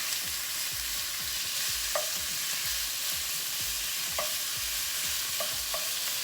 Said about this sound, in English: So let's go ahead and add in our flank steak. I'll turn the burner up a little bit to medium high.